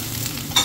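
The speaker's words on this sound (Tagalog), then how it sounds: "Haluin lang natin." Shredded cabbage stirred in a frying pan with oil, a short burst of sizzling and scraping close by, swelling near the end.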